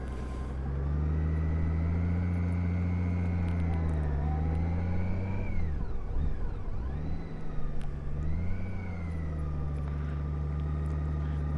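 A motorcycle rolls slowly in second gear under steady throttle, its engine drone holding a low, constant pitch that dips and recovers as the revs change, close and continuous throughout.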